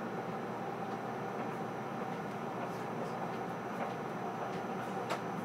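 A steady, low rumble of a JR West 681 series express train rolling along rails between Kanazawa and Tsuruga, continuous and unbroken, with a few faint clicks and knocks over the top.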